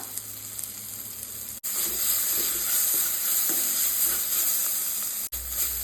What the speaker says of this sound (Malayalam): ഇതും കൂടെ ഒന്ന് ഇളക്കി യോജിപ്പിക്കാം